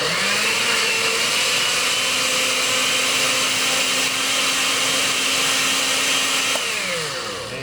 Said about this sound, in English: we'll blend up these tomatoes